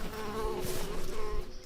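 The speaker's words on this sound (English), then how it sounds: "I was quite happy there until a giant bee attacked me." A giant bee in a crafting video game gives off a continuous droning buzz, steady and fairly loud throughout, with no talking over it.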